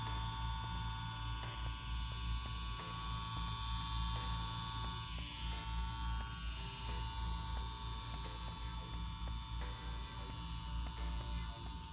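A Mummy wireless tattoo machine runs with a steady, close electric buzz and hum, continuous and even for the whole stretch with no talking.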